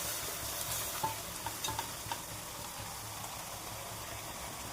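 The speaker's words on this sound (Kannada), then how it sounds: "ಈಗ ಇದನ್ನು ಒಗ್ಗರಣೆಗೆ ಹಾಕ್ತೀನಿ" Country chicken pieces going into a sizzling tempering and being stirred in a pan, a soft steady sizzle with a few light scraping taps, fairly quiet and close.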